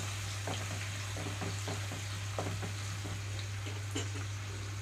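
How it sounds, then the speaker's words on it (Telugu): Onions frying in a pan over medium flame, a soft close crackling sizzle broken by short stirring scrapes, fairly quiet over a steady low hum. "ఇక్కడ ఉల్లిపాయలు కూడా వేసి వేయించుకుంటున్నాను"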